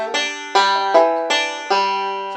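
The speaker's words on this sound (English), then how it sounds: "I did a 2-3 hammer-on the third string and used my first 2 fingers." A banjo plays a short lick with a 2-3 hammer-on on the third string, five bright plucked notes in an even rhythm, close and clear with no talking.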